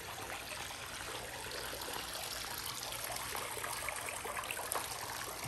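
Soft continuous trickle of water in a backyard hot tub at a Lake Havasu pool home, a steady gentle flow heard alone at moderate distance.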